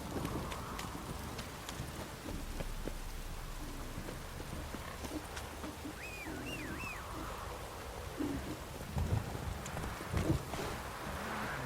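Horse hooves clip-clop at a gallop in The Witcher 3 on PS4, a steady rhythmic thudding over ambient rain and wind, with a few louder hoof impacts near the end.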